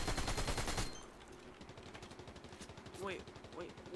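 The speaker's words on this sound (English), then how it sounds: "This is the SMG. This is the second SMG in the game, next to the burst." Harbinger SMG fire in Fortnite Creative: a fast, loud burst of automatic shots for just under a second, then quieter scattered rapid gunfire continuing in the background with brief voice-like chirps.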